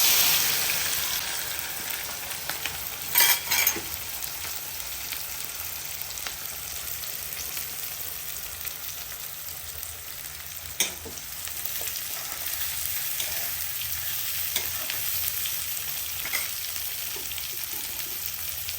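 Onion fries in a pan for a poppy-seed bhaji, a constant hiss and crackle of sizzling oil with a few sharp stirring scrapes of the utensil now and then.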